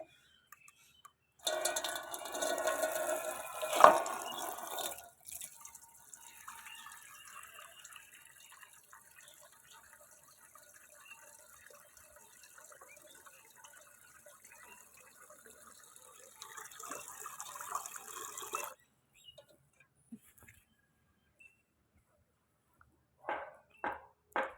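Water pours steadily onto potted plants for most of the stretch, a soft, continuous splashing that fades in, swells, then stops, leaving a few faint knocks.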